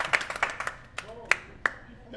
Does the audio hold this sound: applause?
yes